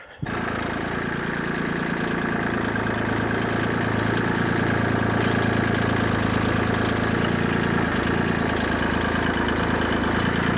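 A small tractor engine idles steadily and continuously at close range, a low, even rumble with a faint knocking texture and no voices.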